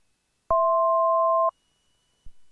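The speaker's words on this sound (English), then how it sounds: "what is this noise keeps coming? Do you know? Yeah, that tells me my altitude." A single steady electronic tone of about one second sounds clearly in a small aircraft cockpit during a VFR flight from Whiteman to Oxnard, the altitude alert, followed by a brief low thump.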